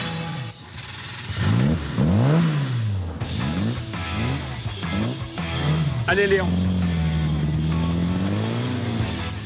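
A 1950 Renault 4CV pulls away, its small engine revving up repeatedly through rising and falling gear sweeps, close and fairly loud, while a voice speaks briefly over it.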